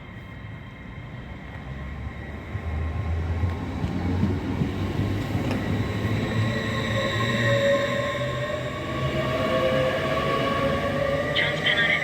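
A train pulls away from a platform at Northallerton station, a rising rumble of engine and wheels building over several seconds with a faint steady tone, heard at moderate distance with a voice briefly over it.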